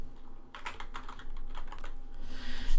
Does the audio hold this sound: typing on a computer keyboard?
yes